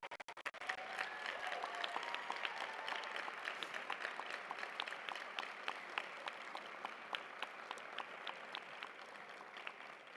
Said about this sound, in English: And then you graduates, I'd like for you to applaud them.